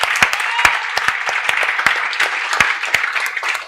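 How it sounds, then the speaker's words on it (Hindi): Students in a classroom lecture for a law course burst into loud applause, sharp individual claps ringing out close and dense over several seconds, with no talking over them. "मैं चाहती हूं आप लोग अपने लिए एक बार जोरदार तालियां बजा दो यार।"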